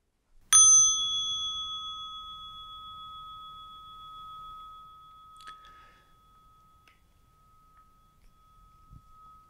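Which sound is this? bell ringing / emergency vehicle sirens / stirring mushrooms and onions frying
bell ringing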